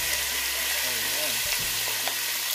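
Chicken fries in hot oil for Filipino arroz caldo, a constant loud sizzle with a low hum and a tonal whine running underneath, a couple of faint clicks, no speech.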